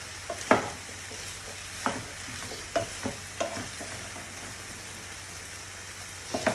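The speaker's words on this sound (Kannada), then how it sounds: "ಇದನ್ನ ಒಳ್ಳೆ ರೀತಿಯಲ್ಲಿ ಮಿಕ್ಸ್ ಮಾಡಿಬಿಡೋಣ." Vegetables stirred in a small frying pan: a steady, soft sizzle with irregular scraping and clinking strokes of a spoon against the pan, close by.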